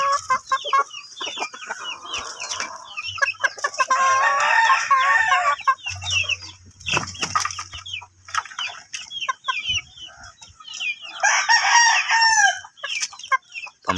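A gamefowl rooster, a Pumpkin cross Kanawayan, crows loudly several times amid other clucking and crowing birds in a backyard flock, with a low hum at one point.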